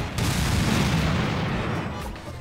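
A pulse cannon in Garry's Mod fires with sustained heavy, booming blasts that rumble continuously for a couple of seconds, a dense roaring sound with no voices over it.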